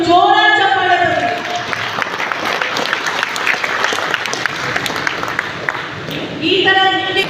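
An audience at a Rapido bike-taxi captains' celebration breaks into loud, sustained applause, with a voice briefly audible at the start and end of the clapping.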